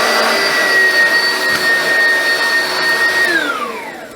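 An Oreck XL Classic upright vacuum cleaner runs loud and steady with a high whine, then its pitch falls away near the end as it powers down.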